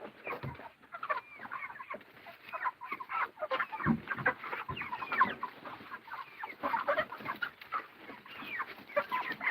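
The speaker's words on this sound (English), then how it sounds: "We are feeding the chickens." Many chickens cluck and squawk together in a busy, continuous chorus at feeding time, close by, with scattered rustling and pecking sounds.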